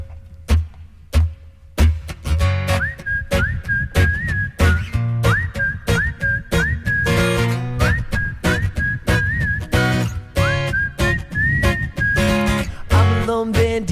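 A clear whistled melody of short sliding phrases, repeated over a steady rhythmic backing with sharp percussive hits, performed live.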